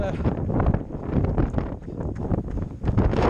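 Wind blowing across Mount Snowdon, heard as loud gusty rumble and buffeting on the microphone, rising and falling in waves, with a runner's voice heard faintly under it.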